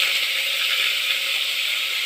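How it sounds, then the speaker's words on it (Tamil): Mutton hitting hot oil gives a continuous, loud hissing sizzle that holds evenly for about two seconds, then cuts off abruptly, with no talk. "எண்ணெய் காஞ்சிடுச்சு, மட்டன் போட்டுக்கலாம்."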